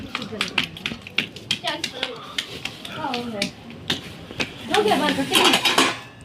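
Dishes being washed by hand in a village home kitchen: two plates clatter and clink in a series of sharp, close knocks and scrapes, with running-water splashes building near the end.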